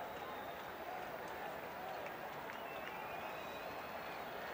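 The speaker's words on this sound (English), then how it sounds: "Big crowd here." A large crowd of about 51,000 at Yankee Stadium during a 1988 Red Sox–Yankees baseball game makes a steady, distant roar and murmur with scattered faint cheering, and no one speaks over it.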